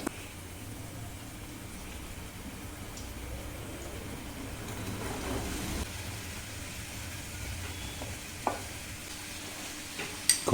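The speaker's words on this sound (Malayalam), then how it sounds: "അപ്പൊ ഇതൊരു ലൈറ്റ് ബ്രൗൺ കളർ ആകും വരെ വഴറ്റുക." Finely chopped onions with salt sauté in a pan for mushroom gravy, making a soft, steady sizzle with a faint hiss and a few stirring knocks near the end.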